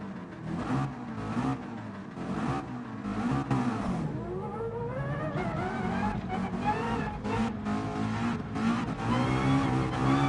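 Race car engines rev and whine in a racing video game as a field of cars gets under way, with overlapping rising engine pitches and tire noise forming a steady, dense roar.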